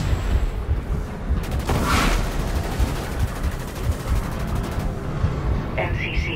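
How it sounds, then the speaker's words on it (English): In the video game DUST 514, a null cannon fires at the MCC: a heavy booming blast followed by a long stretch of rattling, rapid gunfire over a dense, continuous battle din. "Warning. Objective A, null cannon targeting MCC."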